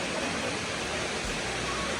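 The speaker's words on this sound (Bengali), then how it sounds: "আর এখন কিন্তু পর্যাপ্ত পানি আছে এই ওয়াটারফলের মধ্যে" Waterfall at Napittachhara with plenty of water pouring down, a dense, even rushing roar that fills the whole clip without pause.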